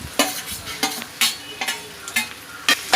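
A spoon stirs dal with ginger-garlic paste and tomato in a pot, giving a series of sharp scraping strokes at a steady, unhurried rhythm, close up and alone.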